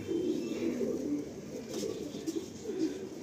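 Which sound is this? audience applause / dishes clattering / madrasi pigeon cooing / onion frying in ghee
madrasi pigeon cooing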